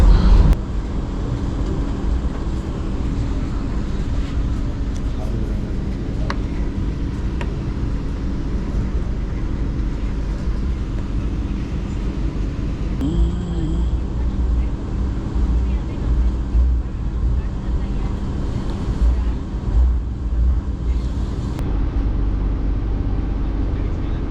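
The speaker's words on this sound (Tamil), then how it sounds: "நல்ல ஸ்பீடாக தான் ட்ரெயின் போயிட்டு இருக்குது" Steady low rumble of a Vande Bharat express train moving at speed near Tirunelveli, India, continuous and loud, with rhythmic rattling and clatter throughout and no pauses.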